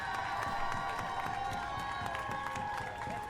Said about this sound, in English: I wonder how long the applause is going to go for.